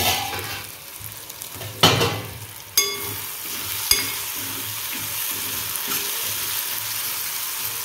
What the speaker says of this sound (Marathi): आता टोमॅटो पण मस्त परतून घेणार आहे, छान असं मऊ होईपर्यंत